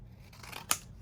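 A single crisp snip of scissors cutting paper in half, short and close, with light rustling just before it.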